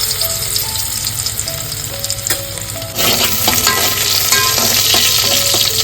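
Garlic paste sizzles loudly in hot oil in a cooking pot, crackling steadily, and the frying grows louder partway through as it is stirred.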